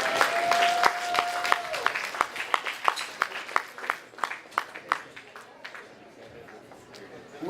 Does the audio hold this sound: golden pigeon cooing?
no